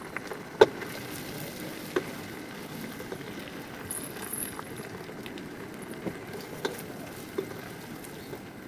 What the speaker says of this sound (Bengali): এই পর্যায়ে পেঁয়াজগুলি সুন্দর করে ভেজে নিব